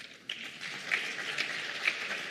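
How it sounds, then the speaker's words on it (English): Conference audience applauding for women, a moderate, somewhat distant patter of clapping with a few distinct nearer claps standing out, brief and without talk. "let's give a big round of applause for our women"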